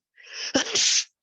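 A single sharp sneeze bursts out close and loud, with a short inhale leading into the explosive release, in an indoor online lecture on DevOps tools.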